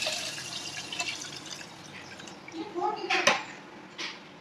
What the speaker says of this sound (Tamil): இப்போ இதுக்கு தேவையான அளவுக்கு தண்ணி ஊற்றிக்கோங்க.